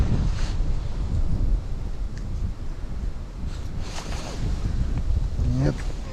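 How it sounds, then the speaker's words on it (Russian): Steady wind buffets the microphone at a lake in spring, a low rumbling roar with gusty swells, and a faint voice briefly shows through near the end. "Опять поднялся ветер."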